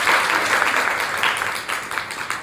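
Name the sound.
audience applause after a presentation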